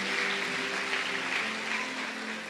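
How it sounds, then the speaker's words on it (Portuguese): A church congregation claps together in a steady, moderately loud wash of applause filling the room, with no voices over it. "Você pode dar uma salva de palmas a Jesus pela vida dela."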